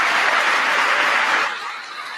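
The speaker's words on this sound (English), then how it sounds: "One whole side of the building clapping while the other side, well, a few of the other side of the aisle clapping." Clapping from one side of a government chamber: a dense, steady wash of applause from a large crowd that thins slightly toward the end.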